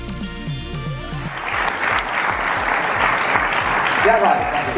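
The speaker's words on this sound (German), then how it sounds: "der Applaus gehört ganz eindeutig" Audience applause at a convention in the Europa-Park resort, a dense steady wash of clapping that builds and holds, starting over fading musical tones.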